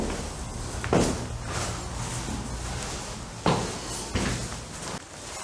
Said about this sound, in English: How cool's that door, Dave?